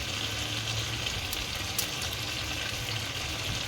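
Pieces of goat meat sizzle steadily in a pan of hot oil with fried onions, a dense continuous frying hiss with no break and no voices.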